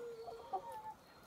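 Soft, close chicken clucking in a short burst, a few brief murmured clucks with no talking.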